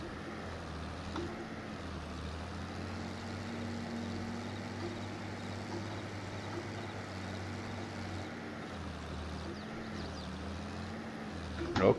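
A tractor in Farming Simulator 22 cultivates a field, its engine a steady low drone that holds evenly throughout with only slight swells in pitch.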